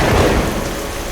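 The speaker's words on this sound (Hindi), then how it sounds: "बाहर बारिश इतनी तेज थी कि 2 हाथ आगे का कुछ दिखाई नहीं दे रहा था" Heavy rain pours down in a dense, loud, continuous hiss with a deep thunder rumble underneath, the storm backdrop of a Hindi horror story.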